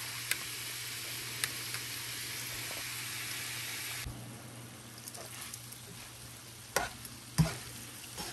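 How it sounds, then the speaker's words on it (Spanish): Ground beef sautéing in oil for tacos, a steady broadband sizzle that fills the first half and then drops to a quieter fry, with a few sharp clinks of stirring near the end. "Con esa misma voy a dejar que se sofría poquito"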